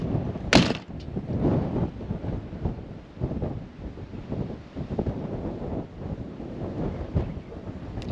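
Strong gale-force wind gusts around a coastal campsite in Australia under a wind warning, loud rumbling buffets against the microphone rising and falling in waves, with a sharp bang near the start like a door moving.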